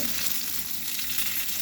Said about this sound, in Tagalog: ilalagay na po natin ang ating gulay